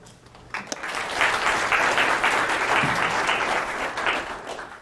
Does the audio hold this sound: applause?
yes